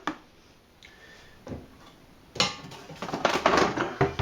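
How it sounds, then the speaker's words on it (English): Dark malt steeping in a brew pot for a porter gets one quick stir. At first there are faint ticks and clinks, then a louder burst of swishing and metallic scraping against the pot. "I'm just going to give it one quick stir, and close it back up"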